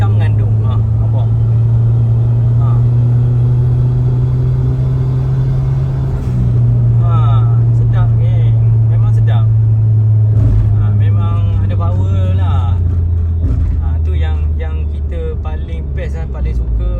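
A Perodua Alza Turbo pulls away under light throttle, its low engine drone rising gradually in pitch, with road rumble beneath and a person talking over it throughout.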